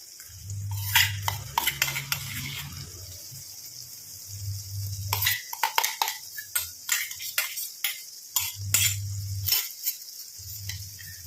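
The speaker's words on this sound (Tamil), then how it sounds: "ஆட் பண்ணி நல்லா இந்த மாதிரி கலந்து விட்டணும்" A spoon stirs ground hibiscus flower and black cumin paste into oil heating in a metal pot, giving intermittent scraping and clinking strokes with brief pauses and a soft hiss beneath.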